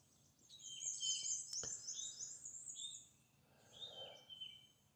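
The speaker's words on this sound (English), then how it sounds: "The birds are going nuts." Morning birdsong at a spring campsite: several birds chirp and warble in overlapping bright phrases, fairly close, with a soft hiss between calls.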